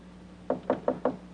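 Four evenly spaced knocks on a door, close and crisp, in a quick steady rhythm, with a faint low hum beneath and no voices.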